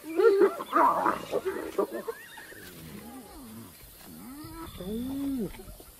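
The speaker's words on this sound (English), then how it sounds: "Hyenas are ripping an impala kill apart." Hyenas tear apart an impala kill in Timbavati, giving excited whooping, squealing and giggling calls that rise and fall in pitch. A loud, busy scuffle comes first, then the calls grow more spaced out.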